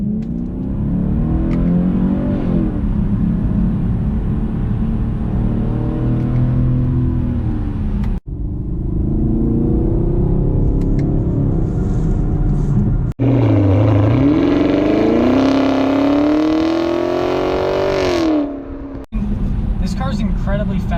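A 2018 Chevy Camaro with a 6.2-liter V8 accelerating on cold tires, its engine note swelling and climbing through the gears with short drops at each shift, under steady talk from the driver.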